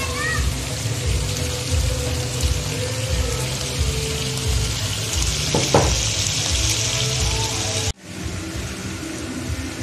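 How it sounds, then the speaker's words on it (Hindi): Kebabs fry in a pan with a loud, continuous sizzle and bubbling close by, a brief clatter near the middle, then a sudden drop before the frying resumes more quietly. "अब मैं फ्राई कर रही हूँ।"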